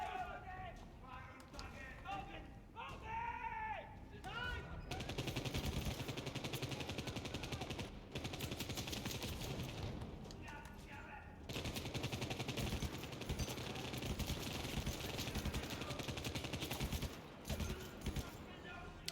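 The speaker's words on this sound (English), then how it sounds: "It really does feel like I'm shooting guns in a crowded high street." Rapid bursts of automatic gunfire rattle almost continuously in the CrossfireX video game, crackling loud and dense with brief pauses, while someone talks at the start.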